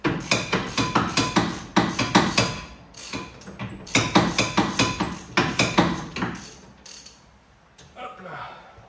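A steady series of sharp metallic hammer blows strikes a socket to drive out the rear wheel bearing of a Subaru Legacy. The close strikes come in quick bursts with brief pauses between them.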